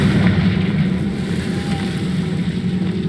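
Confringo blasting spell in Hogwarts Legacy, a sustained loud rumbling fiery roar that stays fairly even over a few seconds with no voices.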